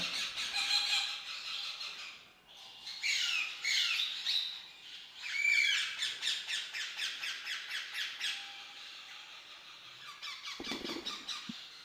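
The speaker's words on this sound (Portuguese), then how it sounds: "Aqui a gente tem as cabeças de ameixa. Tem um casal aqui." A pair of plum-headed parakeets in an aviary give loud, harsh squawks and shrill squeals, coming in rapid repeated bursts with brief pauses, close by and with no voices.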